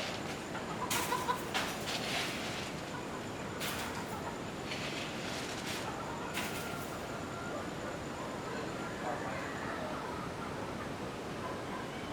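Gamefowl and chickens cluck and call during a morning feeding among quails and gamefowl, a few brief bursts in the first seven seconds over steady farmyard background noise, with no talk.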